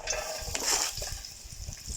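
One sliced onion sizzles in hot vegetable oil in a pan for a vegan curry, giving a steady, close crackling hiss with faint stirring and scraping throughout.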